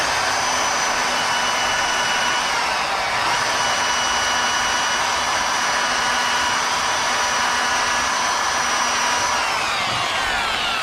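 A car polisher spins steadily with a buff pad while a screwdriver is held against it to clean the pad, giving a continuous whirring motor drone with a high, scraping hiss that holds evenly throughout, close and loud, without talk.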